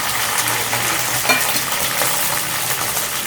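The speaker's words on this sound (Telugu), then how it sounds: "సరే మిగతాయి కూడా వేసేసుకొని వేయించుకున్నాం." Okra pieces frying in hot oil in a pan give off a steady, close, even sizzle that holds for the whole stretch, with a faint metallic tap partway through.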